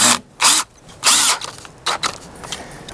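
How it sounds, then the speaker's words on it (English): Power drill driving lag bolts into a heavy-duty wooden deck staircase handrail: a few short, loud bursts of whirring drive, one longer run, separated by brief pauses, with no talking. "driving the lag bolts into the handrail"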